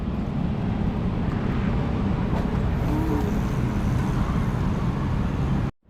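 Vehicles pass along a road heading into Intramuros near the Pasig River esplanade, making a steady, loud, continuous rush of traffic noise that stops abruptly at the end.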